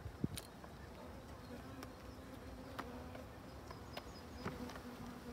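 Buckfast-descended honey bees hum around an open hive during an April inspection, a steady soft drone with occasional individual bees buzzing close past.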